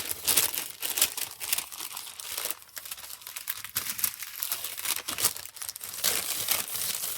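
Sheets of mailed packing paper being crumpled and handled up close, a steady run of crackling, crinkling rustles lasting several seconds with no talking.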